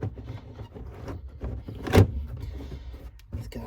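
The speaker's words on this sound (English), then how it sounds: "Get some plastic clips out of there. I know that makes a lot of noise" Plastic trim clips being pried out of a car interior while changing brake lights: mostly low rustling and handling noise, then one loud, sharp snap near the middle as a clip pops free, with a smaller click near the end.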